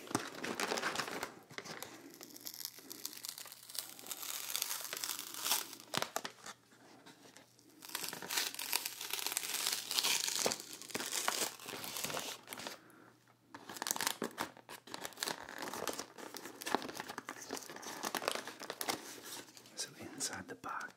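Close, intimate crinkling and tearing of a Trader Joe's cookie box and its plastic packaging, with irregular rustles and crunches and soft whispered talk between them.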